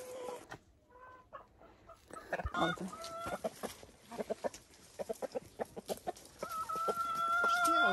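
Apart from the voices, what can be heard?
rooster crowing and clucking in a farm garden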